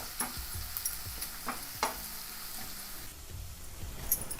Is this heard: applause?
no